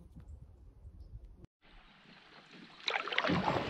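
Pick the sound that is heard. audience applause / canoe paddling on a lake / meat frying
canoe paddling on a lake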